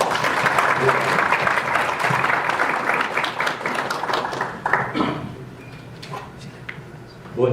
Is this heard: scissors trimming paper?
no